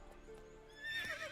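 Horse neighing in The Witcher 3, a single rising whinny near the end over faint hoof clip-clop and quiet game ambience, with no talk.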